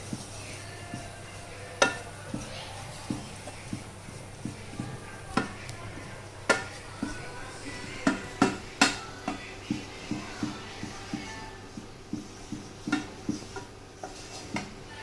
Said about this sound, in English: we have to keep stirring the flour continuously